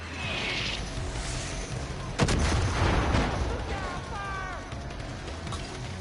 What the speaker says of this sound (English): Love the mortar.